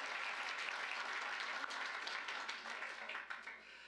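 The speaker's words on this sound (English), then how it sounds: "Give him a round of applause," Audience applause at a political history panel, a short burst of steady clapping from a room of people that thins out toward the end, fairly distant and with no talk.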